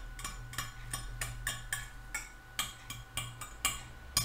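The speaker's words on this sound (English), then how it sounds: "I'm just going to chop this up." Knife chopping craft goo on a hard surface, roughly a dozen crisp, evenly spaced taps in a quick steady rhythm, close and fairly quiet, with no talking.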